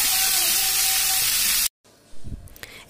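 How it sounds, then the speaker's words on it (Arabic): Chicken pieces with onion, salt and pepper dropped into hot oil, a loud bright frying hiss that stops abruptly, followed by a short silence and then quieter sizzling with a few low knocks. "الفراخ بتاعتنا بالبصل بالملح والفلفل في قلب الزيت يتشوحوا مع بعض"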